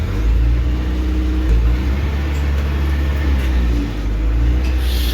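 An Eicher bus engine gives a loud, steady low drone, heard from close by as the vehicle is pushed along, with a constant rumble throughout and no speech.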